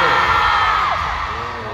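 A packed K-pop concert crowd at a show in Seoul screams in a brief, loud, sustained roar that slowly tapers.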